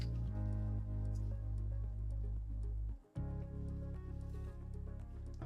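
A small electric water pump runs steadily, adding water to a wilted plant's soil, a close, even motor hum that cuts out briefly and restarts with a slightly different tone.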